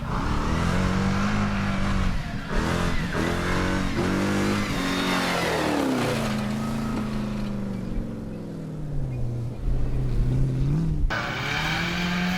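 Off-road racing car engine at a club and regional off-road race in the South African bush, revving hard with rising and falling pitch sweeps as it accelerates and shifts, a loud continuous roar with no talking.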